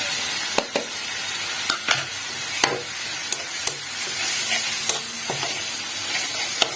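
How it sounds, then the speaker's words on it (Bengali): Leftover spices hit a pan of frying methi chicken, giving a close, continuous sizzle punctuated by sharp spoon knocks and scrapes against the pan every second or so. "এবার আমার ওই স্পাইসেস যেগুলো অবশিষ্ট ছিল সেগুলো আমি এটা দিয়ে দেবো"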